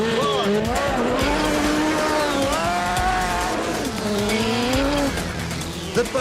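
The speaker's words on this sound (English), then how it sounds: "The buggy's Honda 5-blade engine produces 150 horsepower." A racing buggy with a 150-horsepower Honda engine drives hard and loud, its engine note rising and falling through the gears as tires squeal and skid, with a voice speaking over the noise.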